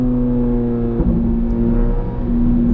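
Corvette C8 Z06 engine running close by, a sustained throaty drone with strong harmonic tones and a brief dip and surge near the middle as the revs shift, with no one talking.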